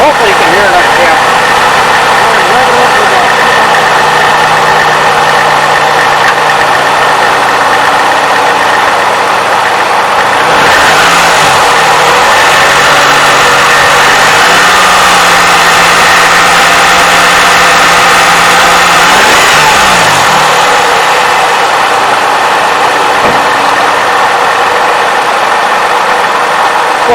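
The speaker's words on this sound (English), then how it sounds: "You hear a little bit of clacking noise coming right from here." A 3.5L Toyota engine idling loud and close with a light, steady clacking from the engine, a constant drone that dips and shifts briefly, with a person talking throughout.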